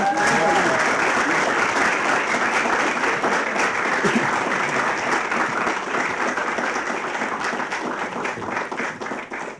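Dense, steady applause from a sizable audience fills the whole stretch, with a brief voice at the start and the clapping thinning slightly toward the end.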